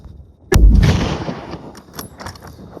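A single loud, close rifle shot fired at a deer during a South Dakota hunt, a sharp blast with a rumbling decay that fades into quiet outdoor background.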